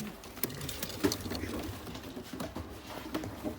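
New pigeons being released into a cage, soft wing flutters, scuffling and faint coos at close range, fairly quiet.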